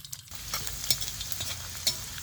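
Garlic and mustard seeds frying in hot oil give a faint, crackling sizzle with small pops and occasional stirring scrapes, close by and quiet.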